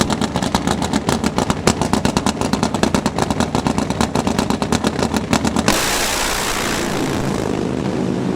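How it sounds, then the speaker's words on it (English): A nitro drag racing motorcycle with an Overkill V-twin engine roars loudly with a rapid, pulsing engine beat, then recedes into a broad, steady whoosh of engine and track noise, with no talking. "Veteran nitro racer Dean Communal, as he'll line up on the O'Reilly lane with an Overkill V-twin on board"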